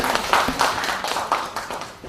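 An audience at a local governance forum in Pyeongtaek gives steady, moderately loud applause to welcome a guest speaker, a continuous wash of hand claps with no voices.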